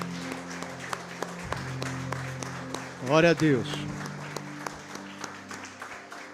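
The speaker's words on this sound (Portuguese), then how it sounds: "Você pode aplaudir ao Senhor, queridos?" A church congregation applauds the Lord, with steady broadband clapping running through, while a voice speaks briefly over it and a short loud shout or cheer rises in the middle, over an organ-like sustained tone.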